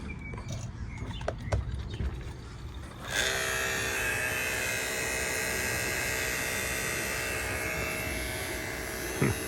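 A NAVAC 18-volt cordless HVAC vacuum pump rated at 2 CFM switches on after a few seconds of quiet handling noise, then runs with a steady, even, hissing whir at moderate volume.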